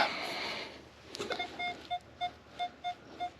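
A metal detector on a Queensland beach at night gives repeated short electronic beeps over a buried target, evenly spaced, clear and alone after a brief scrape of sand.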